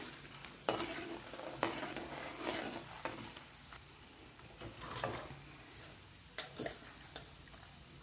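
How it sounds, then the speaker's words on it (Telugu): Chana dal and urad dal frying in oil in a pan for pulihora, with scattered stirring scrapes and soft sizzling pops; irregular spoon strokes sit over a faint steady sizzle, no voices. "పచ్చిశనగపప్పు వేస్తున్నానండి బాగా వేపుకోవాలండి"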